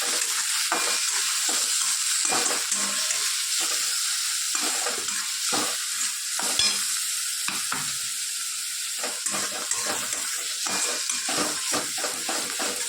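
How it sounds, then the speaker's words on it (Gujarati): Onion, garlic, peanuts and green chillies sizzle steadily in hot oil in a pan, with a continuous frying hiss broken by repeated stirring scrapes, close and alone. "ડુંગળી, લસણ, સિંગદાણા અને લીલા મરચાં બધું સરસ આપણે"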